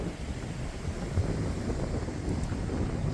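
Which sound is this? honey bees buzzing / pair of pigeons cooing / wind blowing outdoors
wind blowing outdoors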